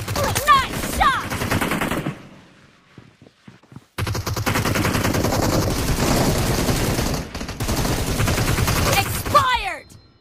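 Bursts of automatic gunfire in the battle royale game BGMI, loud and sustained with a short pause in the middle, mixed with game sound effects and brief voice chatter.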